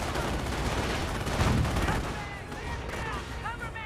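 Dense battle noise in Company of Heroes: rapid small-arms and machine-gun fire with heavy mortar and artillery blasts, loud and continuous, with a commentator talking over it.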